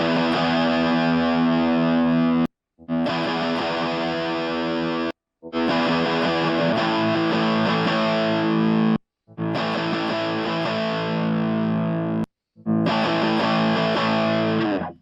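Heavily distorted rhythm guitar played through a Studer tape machine emulation with the harsh highs rolled off, five long sustained chords separated by short silences.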